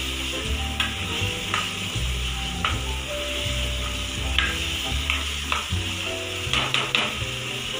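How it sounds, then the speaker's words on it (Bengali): Spice masala paste fried in oil in a pan for a chicken dish, a continuous loud sizzle broken by regular scraping strokes of a spatula, with no voices. "মশলাটাকে ভালো করে কষাতে হবে, তেল ছেড়ে ছেড়ে আসবে।"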